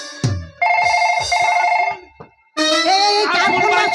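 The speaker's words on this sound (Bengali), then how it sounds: "এই কার ফোন বাজছে?" A mobile phone rings loudly and close in a jatra stage comedy, playing a bright electronic melodic ringtone in two bursts with a short gap between them.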